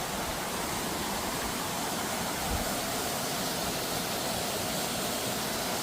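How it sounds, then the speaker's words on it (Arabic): Kagu waterfall in Martvili, Georgia pours steadily in a dense, unbroken rushing roar of falling water that stays even and close throughout, with no voices over it. "بيقول ان اسمه شلال كاغو."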